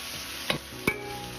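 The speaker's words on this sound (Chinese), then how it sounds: "继续翻炒，炒出香味" Winter melon being stir-fried in a wok with Laoganma chili sauce: two quick spatula scrapes land close together over a soft background sizzle.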